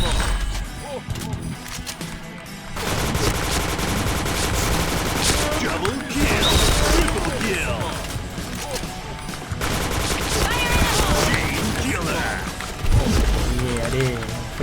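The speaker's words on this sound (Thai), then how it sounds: "โดนลูกซองสับยกสับยกอย่างเดียวเลยนะครับ" Rapid shotgun blasts in a first-person shooter game ring out in dense, overlapping bursts nearly throughout, loud and close, with in-game action noise and chaotic crashes filling the gaps.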